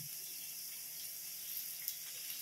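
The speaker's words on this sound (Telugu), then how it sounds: "ఇప్పుడు ఈ వేగుతున్న బఠానీలోకి మనం టమాటో ప్యూరీ అయితే వేసుకుందాం" Tomato puree poured into peas frying in a pan for street-food style veg pasta, giving a steady, faint hissing sizzle that runs evenly throughout with no speech.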